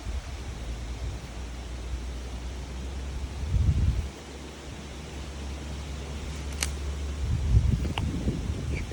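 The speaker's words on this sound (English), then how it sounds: "As you can hear, it's pretty windy." Strong wind blowing through winter woods, a steady broadband roar that swells in two louder gusts, with faint rustling throughout and no voices.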